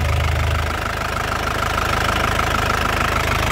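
A 2016 Isuzu Panther LS Turbo diesel engine idles steadily up close, a loud, continuous low rumble with a fine regular ticking pulse and no talk over it.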